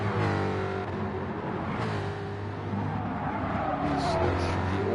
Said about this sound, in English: Mustangs do sound good.